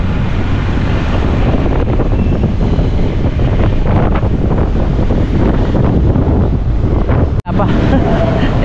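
Strong wind roars and buffets the microphone in a continuous, loud rush, with a brief sharp dropout near the end.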